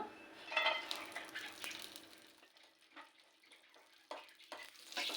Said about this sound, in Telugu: నెయ్యి వేడైందండి డ్రై ఫ్రూట్స్ వేసుకుంటున్నాను